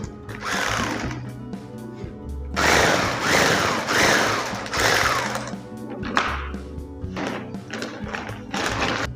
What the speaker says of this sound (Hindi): 10 किलो, 30 किलो और 50 किलो की जो भी पैकिंग यहाँ से होती है वो ऑटोमेटिक सिलाई मशीन के माध्यम से पैक की जाती है।